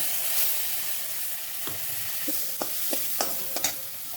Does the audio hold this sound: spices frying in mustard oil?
yes